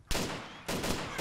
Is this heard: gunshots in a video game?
yes